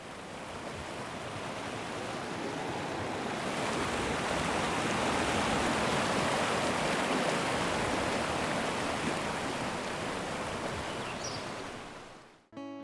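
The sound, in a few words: ambient forest and waterfall sounds from a video game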